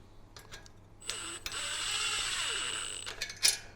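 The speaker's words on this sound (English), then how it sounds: "We're going to use the impact wrench." Impact wrench driving 10mm bolts on a black hose reel during assembly, a fairly quiet mechanical whirring burst lasting a couple of seconds, with brief clicks and taps around it.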